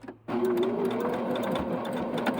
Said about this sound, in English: I am going to backstitch.